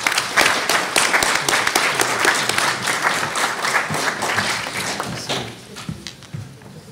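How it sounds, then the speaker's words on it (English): A conference audience gives a loud round of applause for Congressman Hoyer, dense clapping right from the start that stays strong and then thins out and tapers toward the end. "One more round of applause for Congressman Hoyer"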